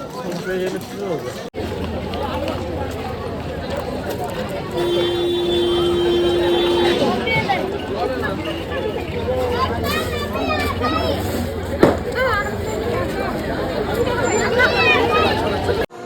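A busy crowd at Bhimashankar Jyotirlinga temple forms a continuous hubbub of overlapping voices and children's chatter, with footsteps and movement throughout and a brief sharp knock near the end; someone speaks close by.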